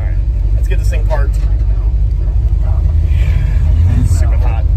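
A drag racing car rolls slowly toward its parking spot with a loud, steady low engine rumble throughout, while a person talks over it.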